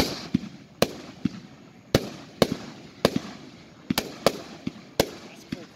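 A Cutting Edge Big Bomb firework cake, a 26-shot, 500-gram cake, fires loud sharp reports at fairly regular intervals of about half a second to one second, each followed by crackling, with faint voices in the background.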